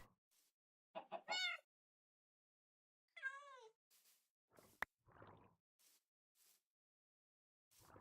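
A few short clucks and squawks from a chicken in the video game Minecraft, separated by gaps, with soft clicks and a sharp knock in between.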